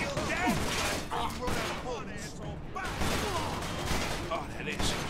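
Gunshots in the video game Mafia II come as a dense, continuous clatter of firing mixed with noisy game sound throughout, with no single shot standing out.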